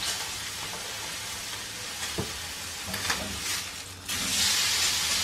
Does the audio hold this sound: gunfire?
no